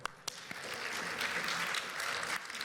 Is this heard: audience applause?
yes